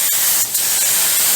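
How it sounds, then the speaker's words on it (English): A paint spray gun set to 30 psi hisses steadily in a loud, close, bright rush of air and atomized paint, with one brief dip in the flow. "This gun's a lot better than the one that we were using"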